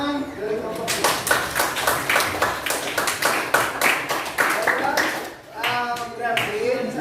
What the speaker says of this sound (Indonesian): Tepuk tangan dari kelompok ini